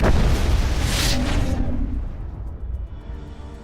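A large explosion in the video game Mass Effect: a loud, deep boom with a bright burst, then a long rumbling decay that fades over a few seconds, with no talk.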